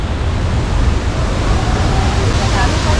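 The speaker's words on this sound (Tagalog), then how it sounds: "Ayan na! Ang ganda! Mother Falls" Mother Falls waterfall in Ditumabo, San Luis, Aurora roars as a steady, dense broadband rush, loud and continuous throughout, with wind-blown spray against the microphone.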